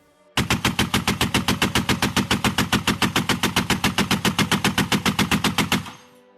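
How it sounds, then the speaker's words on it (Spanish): One long, sustained burst of automatic gunfire rattles on for over five seconds, loud and near, with evenly spaced rapid shots before it cuts off abruptly. "Otras veces se escuchaba una serie larga de detonaciones."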